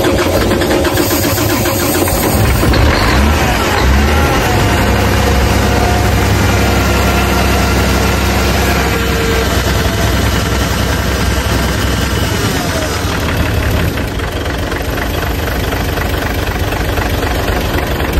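A Mitsubishi 6M70 single-EGR diesel engine, helped along with contact cleaner, runs loud and steady throughout with a deep idling rumble and rough knocking, easing slightly toward the end.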